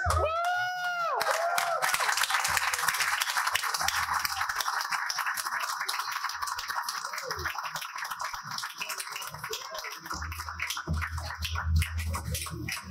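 An audience at a Brampton campaign launch event applauds steadily, welcoming former mayor Linda Jeffries, a dense sustained clatter of many hands with crowd murmur and a brief whoop near the start, thinning toward the end.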